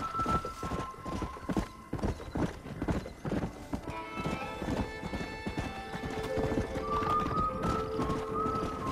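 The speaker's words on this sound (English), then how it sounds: "Y qué bonito caballo" Horse hooves clip-clopping in the Red Dead Redemption western video game, a brisk rhythmic run of hoofbeats with whinnies and neighs, steady and fairly close, while other game sounds play beneath.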